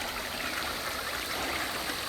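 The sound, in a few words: mountain stream flowing strong on Blackwater trail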